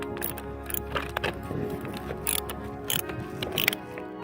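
A ratchet wrench tightens a car battery clamp with a series of quick, close metallic clicks in short bursts, some light handling noise between strokes.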